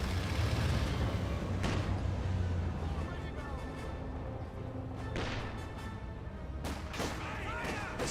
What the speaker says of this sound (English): Good AT gunshot there on the Jagdtiger.